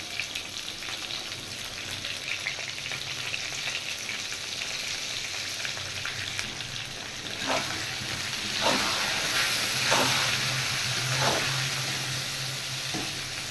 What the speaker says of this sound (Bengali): এবার নুন হলুদ দিয়ে বেগুনটা ভালো করে ফ্রাই করে নেব।